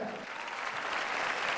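Audience applause welcoming a young poet on stage at a mushaira at Jashn-e-Rekhta: a brief, even wash of many hands clapping, building slightly toward the end, with no speech over it.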